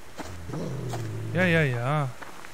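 A dog growls in the survival game Subsistence: a low, rumbling snarl that rises into a wavering, tonal growl near the middle before fading, close and fairly loud.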